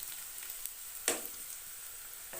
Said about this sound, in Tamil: இதை வந்து நல்லா பொன்னிறமாக வர வரைக்கும் நல்லா வதக்கிக்கலாம்